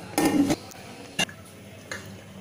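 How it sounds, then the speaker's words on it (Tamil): A few metallic clanks of a lid set onto a pressure cooker of rice and lentils for sweet pongal, one longer clatter followed by two brief taps in a quiet kitchen. "நெய் சேர்த்துட்டு இப்போ மூடி போட்டுடலாம்."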